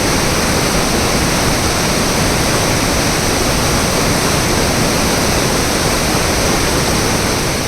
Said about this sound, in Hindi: वाटरफॉल के पास पहुंचते ही पानी जो रॉक्स पर क्रैश करता है उसकी आवाज़ इतनी सूदिंग होती है